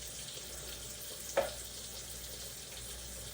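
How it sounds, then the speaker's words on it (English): Pasta water is poured onto cheese beside a sizzling pan, giving a brief splash near the middle over a steady background frying hiss. "Now I'm gonna add some pasta water to the cheese"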